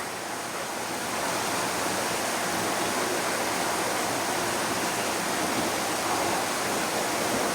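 Steady rushing of river water flowing, a dense continuous broadband wash that stays loud and even throughout with no voices.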